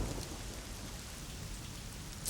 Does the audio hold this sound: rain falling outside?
yes